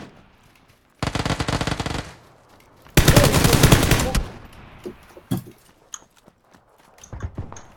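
Bursts of rapid automatic gunfire in PUBG, a dense burst followed by a longer, louder one, then scattered single shots and footstep-like clicks at varying distance.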